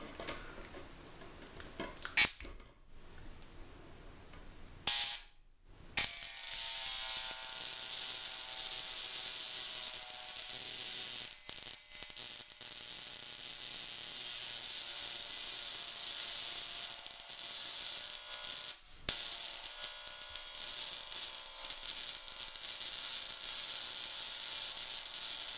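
A homemade flyback transformer circuit running on 12 volts arcs with a continuous high hissing buzz that is broken by several brief dropouts, close and moderately loud, with no talking.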